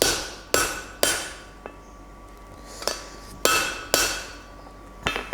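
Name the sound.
hammer tapping a rivet snap on an anvil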